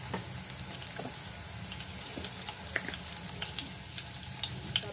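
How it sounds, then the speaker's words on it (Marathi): Crushed garlic fries in cooking oil in a kadai, making a soft, steady sizzle with a few small pops and stirring clicks, fairly quiet and close. "त्याला छान ब्राऊन होईपर्यंत फोडणी करून घ्यायची आपण"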